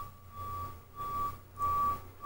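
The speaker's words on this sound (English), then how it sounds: "It's like a beeping sound." A truck's reversing alarm sounds outside, a steady run of faint, evenly spaced high beeps carrying from a distance over low background hum.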